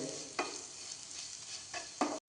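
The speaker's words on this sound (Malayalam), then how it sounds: "ഇത് നന്നായി ഇതിൽ കിടന്ന് നന്നായി മൊരിച്ചെടുക്കണം" Boiled, shredded chicken fries in oil with Kashmiri chilli powder, turmeric, pepper, fennel and garam masala, a steady sizzle broken by a few stirring scrapes, close and alone.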